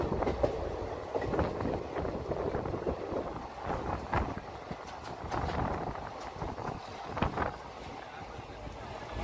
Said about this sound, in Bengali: আর আউটারে রয়েছে, গাড়িটা আস্তে আস্তে যাচ্ছে